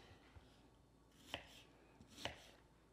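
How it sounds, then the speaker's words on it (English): A knife chopping onions by hand on a board, a couple of sharp crisp chops at a slow rhythm, close but faint, with no talk. "Onions, you know, peel and chop."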